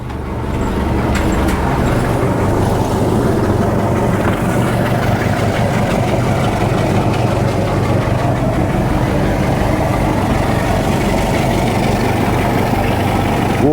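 A boat's port engine idles steadily just after starting, a loud, continuous low rumble that holds evenly throughout with no talking over it.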